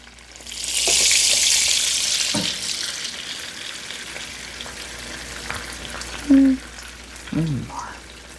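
Egg-washed pieces of largemouth bass hit hot oil in a pan and sizzle, a bright frying hiss that swells early and then settles, with a few kitchen clinks and a voice briefly heard.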